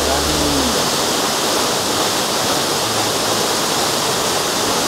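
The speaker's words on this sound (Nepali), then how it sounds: "यो चाहिँ एकदम झरना चाहिँ खतरा रहेछ यहाँको" A waterfall near Lukla village in Nepal roars with a loud, continuous rushing wash of water close by, with a brief voice at the start.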